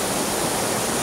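The Calinawan River in Tanay, Rizal flows over rocks, a constant, close rush of water with no voices.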